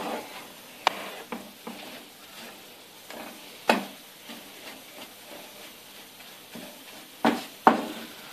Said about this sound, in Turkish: Bunu böyle karıştıracağım ki dibine tutmayacak.